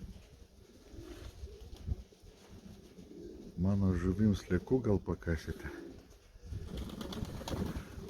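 Pigeons coo outdoors in cold, rainy weather, with a short burst of clear repeated calls in the middle. Someone talks close by before and after the calls.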